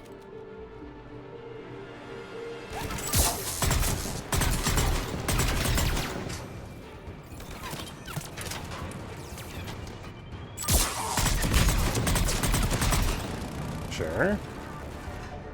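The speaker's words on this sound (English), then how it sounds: "Who's shooting at me?" Gunfire in the Mass Effect 3 shooter game, bursts of rapid loud shots and crashing impacts coming in two heavy clusters, with someone talking over parts of it.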